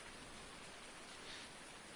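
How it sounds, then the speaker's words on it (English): Steady rainfall in Farming Simulator 19, set on a Washoe, Nevada farm map, a dense continuous hiss of drops on surfaces holding even and unbroken throughout, with no voices over it. "Look at the rain."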